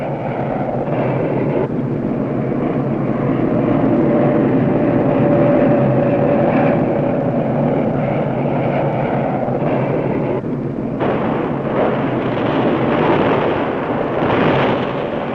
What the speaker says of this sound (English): And then there are the B-52 bombers striking from nearby Thailand.